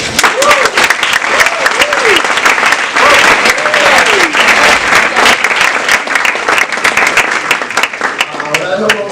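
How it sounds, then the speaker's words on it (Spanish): An audience at an academic event honoring teachers and professors applauds in a loud, steady, dense burst of clapping that lasts throughout, with voices calling out over it. "Por favor, démosles un fuerte aplauso."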